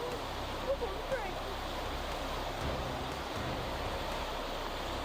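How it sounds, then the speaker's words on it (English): Rushing flash flood water roars as a dense, steady broadband wash with no breaks, fairly loud and constant, with a couple of faint brief sounds riding on top. "filled only with the roar of rushing water"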